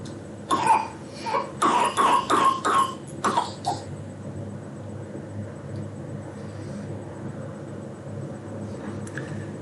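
A small boy coughs in a quick cluster of hacking bursts over the first few seconds. A low rumble of a passing car or engine continues faintly underneath after the coughing stops.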